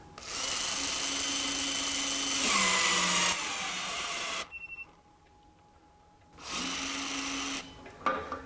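A Hytorc Lion Gun precision bolting tool set to 700 foot-pounds runs in a loud, steady mechanical whir while torquing a bolt, with shifting pitch, a short pause of near silence, then another burst of motorized whirring.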